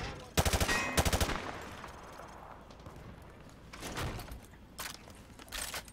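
Machine-gun fire punching through light cover in Call of Duty MW2 comes as two loud rapid bursts early on, then quieter scattered shots and bursts later over a low background.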